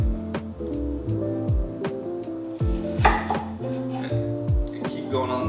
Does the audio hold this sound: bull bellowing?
no